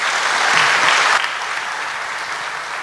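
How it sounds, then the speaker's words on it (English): An audience at IIT Kanpur claps in a dense burst of applause, loudest at first and then settling into steady, softer clapping. "big round of applause from everyone."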